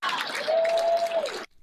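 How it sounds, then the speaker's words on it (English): A crowd at a political speech gives steady, loud applause for about a second and a half, with some cheering mixed into the broad clapping before it cuts off. "People clapping."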